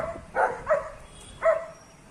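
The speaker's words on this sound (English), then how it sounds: "Oh my god, their barks are so whiny." German Shepherds give three short, whiny barks, close and moderately loud, spaced irregularly with brief pauses between them.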